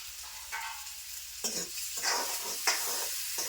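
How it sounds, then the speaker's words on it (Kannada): Chilies stirred and fried in a pan, a close, steady sizzle swelling with several rhythmic scraping strokes of a spatula in the second half. "ಮೆಣಸಿನ್ಕಾಯಿ ಚೆನ್ನಾಗಿ ಒಂದು ಸ್ವಲ್ಪ ಫ್ರೈ ಮಾಡ್ಕೊಂಡು"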